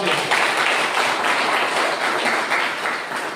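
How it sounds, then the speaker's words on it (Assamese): A church congregation clapping loudly together during worship, a dense, sustained burst of applause close by that tapers slightly toward the end. "আমি জোৰকে তালি বজাইছো"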